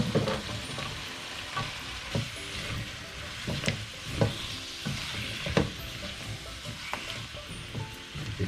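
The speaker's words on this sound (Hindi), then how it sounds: "अब इसमें मैं लौकी डाल के पहले भूनूंगा अच्छी तरीके से इसको" Bottle gourd and softened tomatoes fried in a pan, a continuous low sizzle broken by periodic scraping clacks of a spoon stirring, fairly quiet and close.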